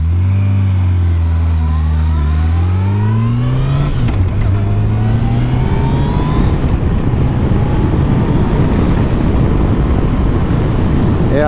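A 2023 Yamaha FJR1300 ES sport-touring motorcycle accelerates hard through its gears, its engine note climbing in pitch, dropping at shifts, then climbing again. Rising wind rush builds beneath the loud, close engine.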